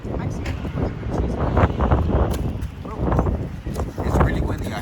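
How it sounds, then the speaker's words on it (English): Gusty outdoor wind buffets the microphone in a steady low rumble, with people talking over it. "It's really windy out here, guys."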